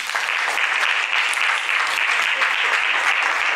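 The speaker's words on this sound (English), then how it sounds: "Clap for Jesus" A church congregation breaks into loud, steady applause, a dense wash of many hands clapping at once that holds evenly from start to finish.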